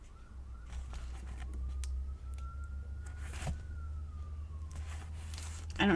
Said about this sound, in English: I don't know if you guys can hear those sirens.